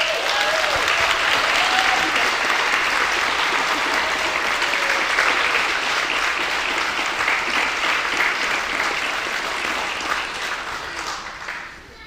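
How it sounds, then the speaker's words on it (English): An audience claps steadily for students and schools at the 2022 Colorado Caring for our Watersheds final competition. The applause is loud and sustained for about ten seconds, then fades away near the end. "please give the students and schools a round of applause for their continued efforts in improving their watershed"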